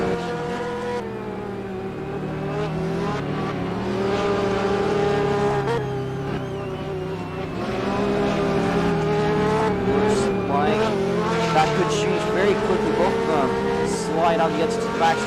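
Race cars roar past at the 2023 GTI season opener at Daytona in sustained, shifting engine drones. Excited commentary runs over the engines throughout.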